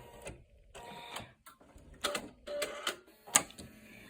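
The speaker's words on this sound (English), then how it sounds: "let's take these pieces over to the sewing machine and piece them together" A sewing machine runs in short bursts while stitching strips of fabric together, a soft mechanical whir with ticks and pauses between runs, fairly quiet and close.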